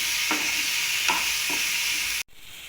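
Ingredients for a jackfruit seed and potato veg mutton gravy sautéing in a pan, a loud steady sizzle with three scraping stirs, ending in an abrupt cut to a quieter hiss.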